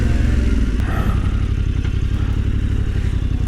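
A 2021 Yamaha Tenere 700 motorcycle rides through deep sand with a close, loud, throbbing engine rumble and some rattling clatter, holding steady throughout.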